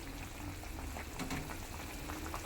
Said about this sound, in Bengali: গরম জল অ্যাড করে দিয়েছি এই দেখো টকপক করে আমার ঝোলটা ফুটে উঠেছে